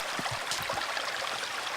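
Running water of a small outdoor brook, a steady close broadband rush and babble with a few low gurgles, continuous and fairly faint with no voices.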